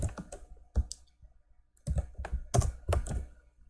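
Code is typed on a computer keyboard, bursts of close, crisp key clicks separated by a brief pause, then a faster run of tapping.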